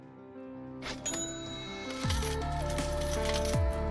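A rapid clatter of coins dropping and jingling onto a hard surface, with bright metallic rings layered under a musical backing, growing busier and louder toward the end.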